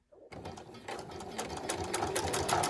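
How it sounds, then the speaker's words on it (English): A sewing machine stitches a long seam on a pair of jeans, starting after a brief silence and running steadily with a fast, rhythmic mechanical chatter that builds slightly in speed and loudness, with no talking. "I'm going to sew all the way down the length of this piece."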